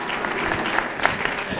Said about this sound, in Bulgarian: Аплодисменти за Георги Камунски.